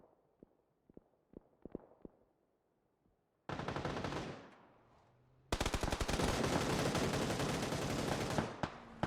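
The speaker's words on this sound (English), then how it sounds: "Hey, some more shooting going on as well." Rapid gunfire in a competitive shooter video game, CS9 Americas North America group-stage match: a few faint scattered shots, then dense, loud automatic bursts that run almost continuously to the end.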